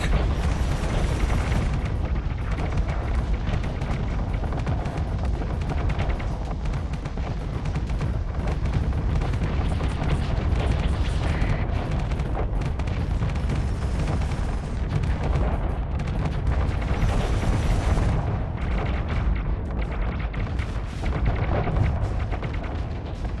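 Ship cannons firing in the space combat game Starsector, a dense, continuous barrage of heavy booms and blasts that stays loud and close throughout with no pause.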